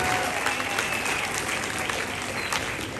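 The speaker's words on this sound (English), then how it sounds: "Round of applause, please." Applause from an audience at a school cybersecurity challenge awards ceremony, a steady dense clapping that fills the room at constant loudness for three seconds, with no clear voices on top.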